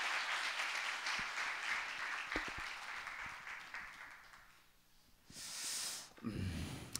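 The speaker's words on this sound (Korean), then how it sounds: "박수하겠습니다." A church congregation applauds in a sanctuary, steady mid-level clapping for about five seconds that fades, then a brief renewed burst near the end.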